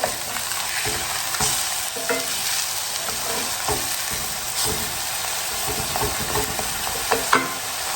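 Hamburger steaks fry in a pan after being flipped, giving a steady, close sizzle with occasional scraping and spatula taps, no voices.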